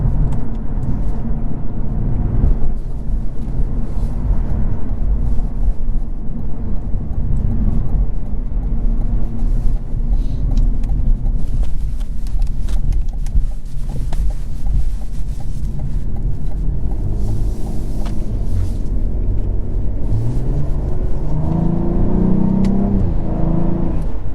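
A 2022 Cadillac CT4-V Blackwing sports sedan drives along with its engine note rising and falling as it revs, a steady loud drone with wind rush, and a sharper rev climb near the end.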